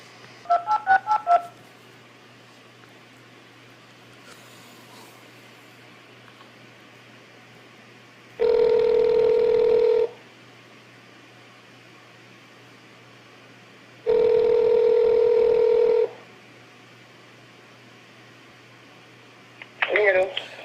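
Touch-tone telephone dialing while calling back: a short burst of keypad beeps at the start, two long steady ringback tones, then more dialing beeps at the end, over a faint hiss with brief voices.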